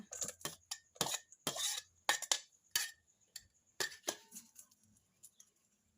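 Winged bean pods tipped into a bowl for a Thai salad with grilled pork, making a string of light, close clinks and taps against the dish, then quieter scattered knocks trailing off.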